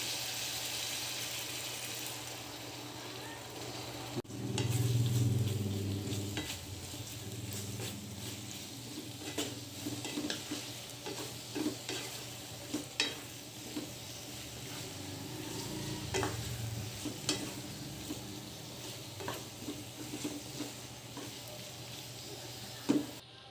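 Egg fries with bitter gourd in a pan, a steady soft sizzle broken by repeated scraping stirs of a utensil, with clacks and knocks scattered across a long, fairly quiet stretch.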